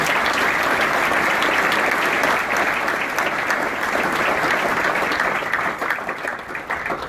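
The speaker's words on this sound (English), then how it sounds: "Ladies and gentlemen, would you please give Barbara a big round of applause." Warm, continuous applause from a breakfast-room audience at a mayoral event, many hands clapping in a dense, even roar that tapers off gradually toward the close.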